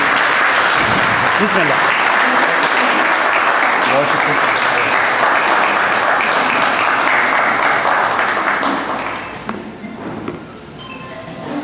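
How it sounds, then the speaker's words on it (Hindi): A poetry mushaira audience bursts into loud, dense sustained applause that fills the hall, then thins and fades as someone speaks briefly at the end. "भरपूर तालियाँ।"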